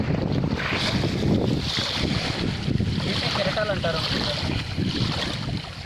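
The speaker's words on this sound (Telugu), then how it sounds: "ఈ చప్పులు గమనించండి, చప్ప సౌండ్, అలల చప్పులు." Sea waves splash and slosh against a boat at Rameswaram amid gusty wind noise, with faint voices in the background.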